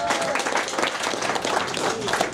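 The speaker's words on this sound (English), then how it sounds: "Parents, clap by round of applause." A comedy club audience of parents claps in a brief, dense burst of applause, close and fairly loud, with an overlapping voice and crowd noise mixed in.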